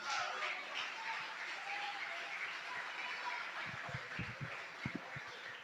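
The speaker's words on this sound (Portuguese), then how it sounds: "As palmas louvem ao nome do Senhor Jesus Cristo" A church congregation clapping during a Portuguese-language sermon, a soft continuous patter of hands with a few sharper claps near the end, faint and somewhat distant under a reverberant hum.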